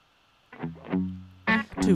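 A reverb effect switched on during a music variety show, processing short bursts of voice into a smeared, echoing, slightly distorted sound. Two close, loud phrases are separated by a brief gap.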